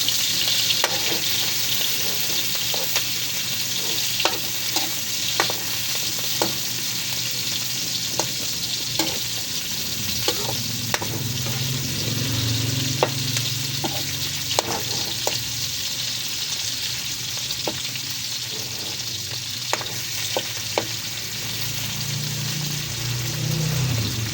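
Vegetables for ginataang gulay, including squash, sautéing in a hot pan with fried fish, a steady close sizzle broken by regular scraping stirs throughout.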